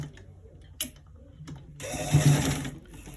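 A sewing machine stitches a double V-neck, starting with a few short clicks and bursts, then a steady close whirring run of stitching in the second half.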